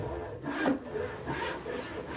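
Vintage rip-filed handsaw of about 13 TPI making a test cut in wood, a few quiet rasping back-and-forth strokes at close range with no talking.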